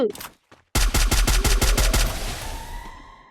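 Rapid burst of about nine loud gunshots from a weapon in the Free Fire battle-royale video game, evenly spaced and close, followed by a fading ringing tail, with a brief quiet lead-in of faint game sounds.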